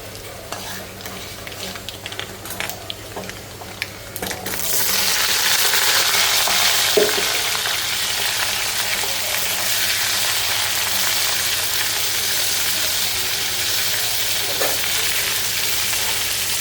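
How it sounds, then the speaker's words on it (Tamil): Okra sautéing in a pan with salt and asafoetida, a steady loud sizzle with stirring scrapes that swells after a few seconds and holds at a dense, even level with no talking. "வெண்டைக்காயை போட்டு வதக்கி உப்பு, பெருங்காயம் இதெல்லாம் மிக்ஸ் பண்ண வேண்டியதான்"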